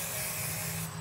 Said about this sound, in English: And hairspray then.